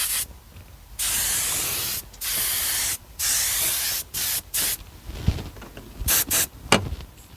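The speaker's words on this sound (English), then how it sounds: "we're gonna go ahead and hit it right in this area, and hopefully we can see it in action," Car detailing spray misted onto a car's paint in several separate hissing bursts of about a second each, fairly close and loud, then a few short knocks and handling sounds toward the end.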